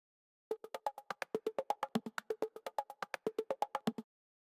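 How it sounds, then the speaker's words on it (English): A fast, even string of short percussive hits chopped from a house music percussion loop, about two dozen tightly chopped strikes in a steady rhythm, then it stops abruptly. "a sound effect that I've chopped up from a percussion loop from one of our packs"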